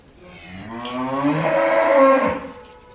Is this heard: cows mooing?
yes